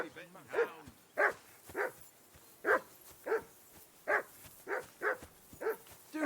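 A dog in the medieval game Kingdom Come: Deliverance II barks insistently near by, about a dozen sharp barks at a quick, uneven rhythm with short gaps between them.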